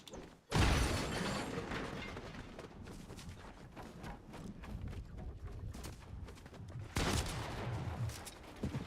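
Gunfire from a hand cannon in the video game Destiny, heard as a loud sharp burst followed by a dense stretch of mechanical clatter and further shots, with a second strong blast near the end and no talking.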